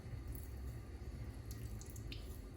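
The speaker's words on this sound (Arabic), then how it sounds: "هناخدهم بقى وايه ونعصر. عايزين بس ننزل ايه المية بتاعت" Liquid squeezed by hand from a grated cucumber and potato mixture, trickling and dripping in a steady, close, wet patter with no talking.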